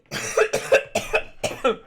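Several sharp coughs in a rough series, close and fairly loud, with short pauses between bursts.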